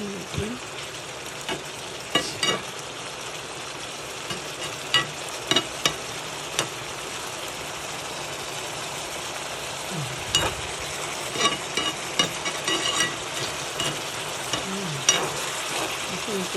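String beans sizzle and crackle steadily in a hot frying pan, with occasional clinks and stirring noises over the constant frying hiss.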